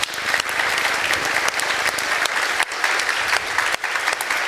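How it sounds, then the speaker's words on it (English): Conference audience clapping for the volunteers, a continuous, evenly dense wash of applause from a large crowd with no talk, holding steady throughout. "So big applause to those"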